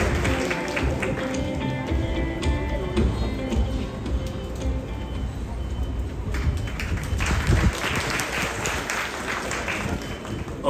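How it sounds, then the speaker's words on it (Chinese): An audience at a factory inauguration ceremony applauds as the chairman of CPC Corporation is welcomed on stage, a dense sustained wash of clapping filling the hall throughout. "让我们掌声有请李董事长。"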